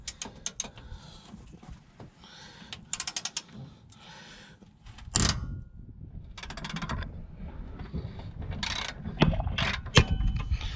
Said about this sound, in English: I'm just going to undo the wishbone bolt.